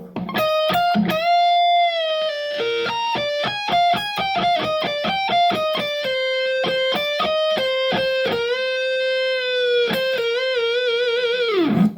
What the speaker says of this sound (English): this next little lick is almost one of the hardest ones of the entire song